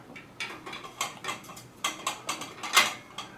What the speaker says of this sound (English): I'm going to turn this wrench clockwise like I'm tightening, but that's going to loosen the nut on this side of the bike